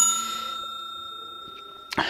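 A single bright bell ring that decays slowly, followed near the end by a short click.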